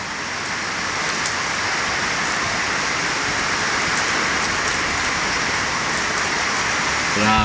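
Heavy rain pours steadily alongside gusting wind, a dense, loud, unbroken hiss filling the whole clip, with a brief faint voice right at the end.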